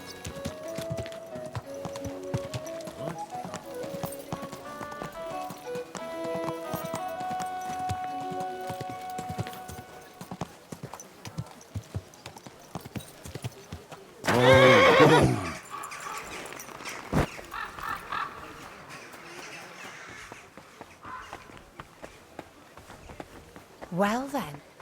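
Horse hooves clip-clop at a walk in the video game Kingdom Come: Deliverance 2, with a loud burst of neighing midway, alongside background music and spoken voices.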